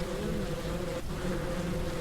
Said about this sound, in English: Go smoke out these bees.